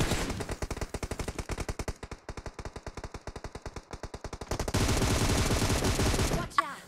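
Rapid automatic bursts from an M4 rifle in a mobile battle game rattle in quick, evenly spaced shots, followed by a denser, louder stretch of gunfire and a sharp cutoff, with no voices.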